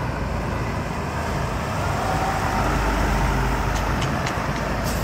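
A Sugeng Rahayu bus, number 7126 Starla, pulls in close with a loud, continuous engine rumble and road noise, a few short hissing bursts like air brakes near the end.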